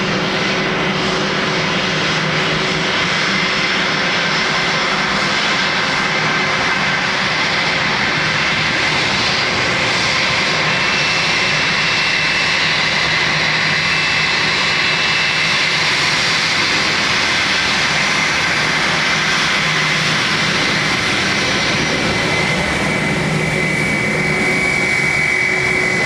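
Ryanair jet airliner landing at Dublin Airport, a loud continuous engine roar and rushing noise that holds steady and close throughout.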